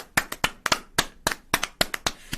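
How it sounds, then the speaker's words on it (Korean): Round of hand claps from a small group at a Korean talk show celebrating a company named a Gyeongbuk Pride firm, about ten sharp, loosely spaced claps, close and alone with no talk. "일단 박수 한번 치고 갑시다"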